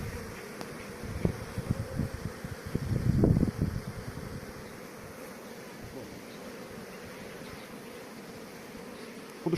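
Honeybees buzz around open hives during an inspection of new queens, a steady close swarm hum with louder bursts as bees pass near, no talking.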